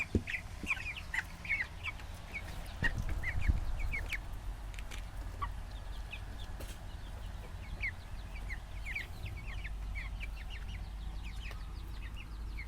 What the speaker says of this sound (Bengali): এগুলো ব্রয়লার মুরগি আজকে তাদের বয়স হলো উনিশ দিন